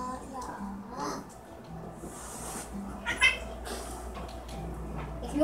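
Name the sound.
cat meowing in a video game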